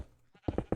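Three short, loud bleats from an Aether sheep in a video game, evenly spaced in quick succession and close up, with a softer murmur just before them.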